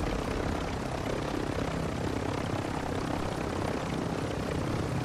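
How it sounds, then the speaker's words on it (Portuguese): An attack drone flies overhead in Call of Duty Warzone, a steady droning whir of rotors and engine that holds evenly loud for several seconds with no voices. "Esse drone não tem como, ele dá maldade, vai."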